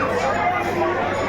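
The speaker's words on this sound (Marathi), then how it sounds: "भरपूर अशी गर्दी आहे मंदिरात" A crowded Hindu temple fills with the murmur of many people milling about, with a nearby voice talking over the steady background chatter.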